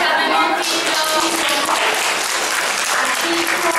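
An audience claps for two children dressed as butterflies at a performance, a loud, sustained burst of many hands clapping close by, with a few faint voices mixed in.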